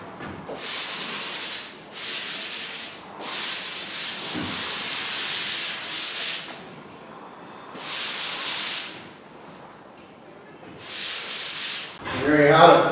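A sponge rubs over dried drywall joint compound around a plug and along corner bead, making repeated scratchy back-and-forth strokes in bursts with brief pauses, close up and with no talking.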